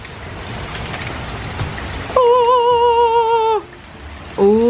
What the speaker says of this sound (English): Look at all that rain coming down